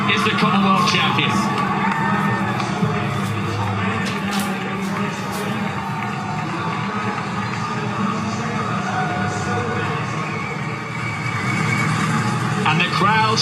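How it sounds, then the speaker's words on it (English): Marathon spectators beside the course roar and cheer while banging the side boards, a dense, continuous crowd din with a commentator talking over it throughout. "And the crowds respond once more, banging the boards at the side of the course"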